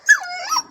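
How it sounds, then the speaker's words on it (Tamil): A dog gives a single short whimpering cry, a high wavering whine that rises, sags and lifts again before trailing off, close and alone. "இந்த நாய் என்கிட்ட வந்து அழுதுட்டு என்னமோ சொல்லுதுன்னு நினைக்கிறீங்க"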